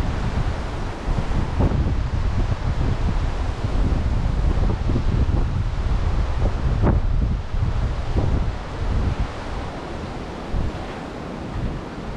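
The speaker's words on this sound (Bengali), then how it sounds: "বিচের পাশে সমুদ্রের গর্জন শোনা যাচ্ছে।" Sea surf roaring along a beach on the Jeddah waterfront in Saudi Arabia, a steady broadband wash of breaking waves mixed with wind buffeting the microphone, continuous and fairly loud with no voices.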